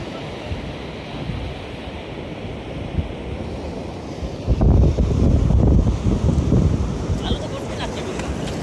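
Sea waves washing onto a beach in the evening, a steady broadband surf wash with wind buffeting the microphone and a louder surge of breaking water midway, faint voices in the background.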